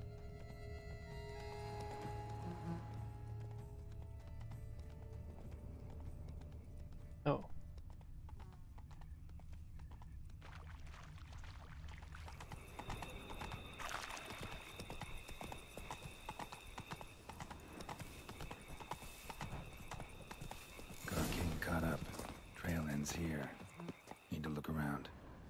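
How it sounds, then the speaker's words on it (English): Horses in The Witcher 3: Wild Hunt clip-clop steadily on the ground for a long stretch, with a short whinny among the hoofbeats, mixed under game music and voices talking. "Megjöttek a lovak."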